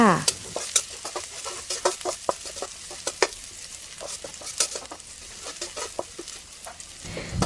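Garlic frying in hot oil in a wok, a continuous crackling sizzle broken by sharp scraping stirs at an irregular rhythm, close and fairly loud, with no talking.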